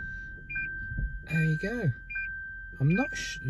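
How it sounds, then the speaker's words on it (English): A Lexus CT200h reverse parking sensor gives short electronic beeps at intervals while the car backs up, heard under people talking nearby. "reverse, horrible beeping"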